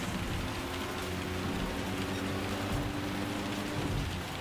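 Rain in the racing video game Gran Turismo 7 produces a dense, continuous hiss with a low rumble, steady and moderately loud throughout, with no voices.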